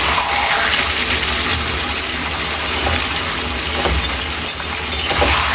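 Water poured into chicken curry cooking in a pan, a steady broadband gush and sizzle running continuously and fairly loud throughout, with no voices.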